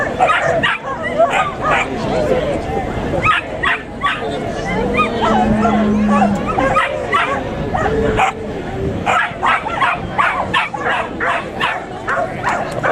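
Big dogs at the Okehampton Show bark, yip and whimper almost without pause, some close and loud and others farther off, while people talk in the background of the busy outdoor event.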